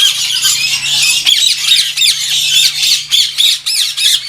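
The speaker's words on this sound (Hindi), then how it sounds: "मुख्तलिफ़ किस्म के रिंग नेक्स हैं यहाँ पे।" Ring-necked parakeets in an aviary squawk loudly and repeatedly at close range, harsh overlapping calls coming in a quick, uneven rhythm with no talk.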